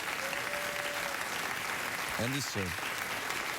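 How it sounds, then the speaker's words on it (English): A television studio audience on a late-night talk show claps and cheers in a dense, continuous wash of applause, while someone speaks briefly over it near the end. "the audience felt it was time for a spontaneous round of applause"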